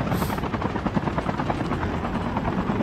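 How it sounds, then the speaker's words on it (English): Aircraft roar toward the player in the Call of Duty Mobile video game, a loud, steady engine drone with a rapid rotor-like chop that continues throughout. "Three fucking three aircrafts just flying towards you at max speed."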